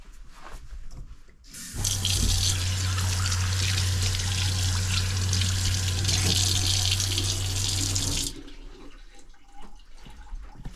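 A sink tap runs steadily for about six seconds while spouts are cleaned in a remote Alaska cabin, a loud close rush of water with a low hum, then cuts off.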